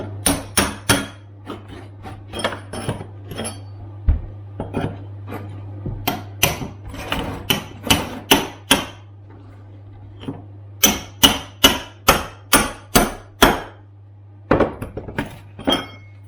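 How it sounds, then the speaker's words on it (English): Loud, sharp hammer blows strike a steel chisel to break up floor tile on a timber floor, coming in irregular bursts of rapid, close impacts with a steady low hum underneath. "hammering away with the chisel is pretty loud"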